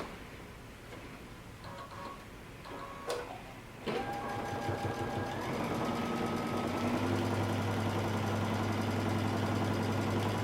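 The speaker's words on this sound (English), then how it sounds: "we're going to top stitch across the top of our pocket flap." Sewing machine top stitching across the pocket flap of a coat, a few faint clicks and handling taps giving way to a steady, continuous motor whir that builds and holds, close up.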